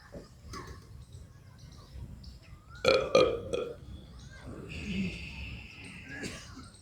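A burp during a yoga exercise where air is swallowed through the mouth: a short, fairly loud belch in two quick pulses, surrounded by soft talking and faint room noise outdoors.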